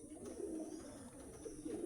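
Pigeons in a breeding room lined with single cages coo softly and repeatedly, low throaty murmurs rising and falling against faint room hum, fairly quiet and without talk.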